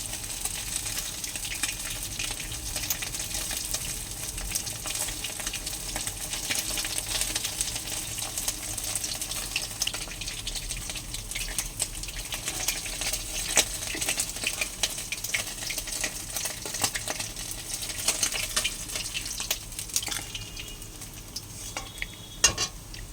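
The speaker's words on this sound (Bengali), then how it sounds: "এত ভয় ভয়ে ভাজছি যাতে একটা মাছ না ভাঙে" Tangra fish fry in hot oil in a pan, a steady close sizzle running throughout with faint scraping and stirring sounds, no talking.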